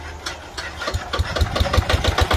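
An old Japanese Yanmar diesel engine on a trencher cranks and catches, settling into a close, loud, steady knocking idle with evenly spaced low thumps.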